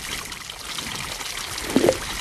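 A short trickle of water pouring in as something is filled in the VR game I Am Cat, a faint continuous wash with a slightly louder splashy burst near the end, no talking.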